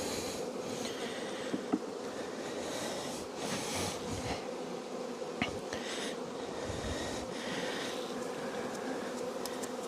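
Honey bees buzz around their hive in cold weather, a dense steady drone close to the listener with occasional louder passing buzzes and faint knocks, no talking.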